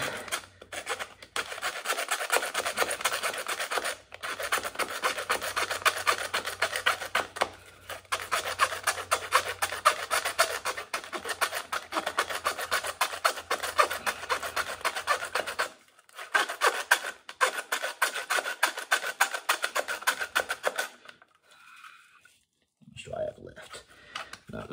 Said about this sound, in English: The one problem with using a handsaw is you'll get a little bit stuck, but it's not so bad.